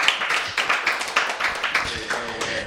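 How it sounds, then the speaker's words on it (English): A comedy roast crowd claps, the applause dense and steady at moderate loudness, with some voices audible beneath it. "One more round of applause for Noel"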